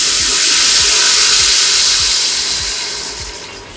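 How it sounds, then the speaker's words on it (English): Turkey stock poured into a hot pan to deglaze it, a loud steady sizzling hiss with a bubbling wash underneath that slowly eases off as the liquid cools. "we're going to use our turkey stock to deglaze"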